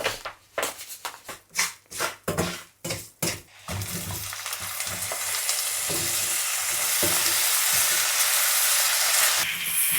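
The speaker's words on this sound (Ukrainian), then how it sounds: "буду обсмажувати цукри, тобто карамелізувати яблука" Apple pieces stirred in a pan with quick scraping strokes, then a steady loud sizzle as sugar and apples caramelize without pause.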